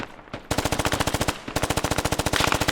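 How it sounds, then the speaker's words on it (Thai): Rapid automatic gunfire from the video game Squad, two sustained bursts of evenly spaced shots, loud and close, with a short pause between them. "มีการยิงมา"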